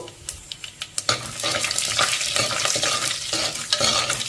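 Urad dal, chana dal, coriander seeds and cumin fry loudly in hot oil for tempering, a dense close sizzle with scraping stirs, preceded by a few sharp taps as the spices drop in.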